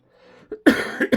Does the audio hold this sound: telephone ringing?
no